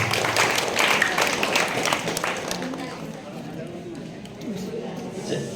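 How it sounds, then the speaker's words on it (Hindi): Applause from the crowd at a results award ceremony in Purnea, a dense clapping wash loudest at the start that thins and softens, with voices murmuring beneath. "आपकी तालियां होनी चाहिए इस वक्त।"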